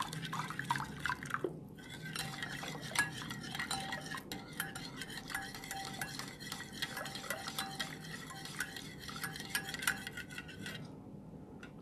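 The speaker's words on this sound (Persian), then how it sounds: "کاملا مواد رو با هم مخلوط میکنیم" Tahchin mixture being stirred in a bowl, with a steady run of wet scraping and clinking from a utensil against the bowl, close and continuous with small liquid splashes and no talk.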